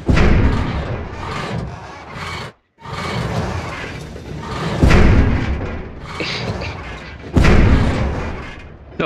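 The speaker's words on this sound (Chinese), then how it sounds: "爆炸喽！" A video game explosion erupts in a dense, loud burst of booms, thuds and shattering debris, with several fresh blasts rolling through a sustained roar and one brief drop to near silence partway through.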